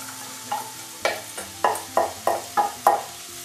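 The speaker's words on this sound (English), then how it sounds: "we move that all around, making sure that all the oil is even with our vegetables" Chopped vegetables and cabbage stirred in oil in a pan, a series of about seven distinct scraping knocks of a utensil over a soft background hum.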